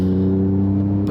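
An Alfa Romeo Giulia Quadrifoglio engine answering a press of the throttle, giving a loud, close, smooth sustained drone that holds steady for about a second before cutting off.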